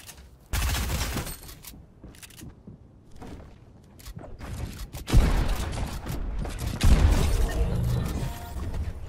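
Fortnite gunfire with equalizer-altered, bass-heavy audio: bursts of rapid shots and booming impacts come in clusters, loud and dense, with mechanical clatter between the volleys.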